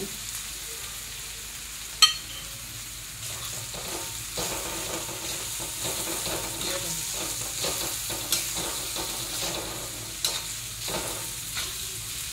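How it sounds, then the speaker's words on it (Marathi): Green peas thecha with turmeric and salt being stirred and sautéed in a pan, a steady soft sizzle broken by scraping strokes and occasional louder clinks of the utensil. "चांगलं असं परतून घ्यायचं."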